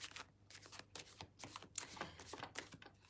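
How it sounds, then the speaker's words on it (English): Tarot cards being shuffled by hand in repeated quick riffling bursts, close and fairly quiet, with no talk. "I'm going to shuffle"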